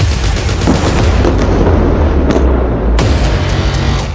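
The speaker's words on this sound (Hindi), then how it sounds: "उसके बाद एक और टैंक से गोला दागा जाता है।" An Israeli army tank fires a shell in Gaza war news footage, followed by explosions. A loud, continuous roaring rumble carries heavy blasts that swell through it, with no talk.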